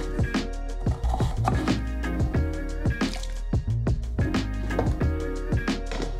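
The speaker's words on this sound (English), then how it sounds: "help them from changing color as I cut down the rest of the potatoes." A knife chops potatoes into fries on a board in a steady rapid rhythm of sharp, close, fairly loud cuts with faint wet squishes between strokes.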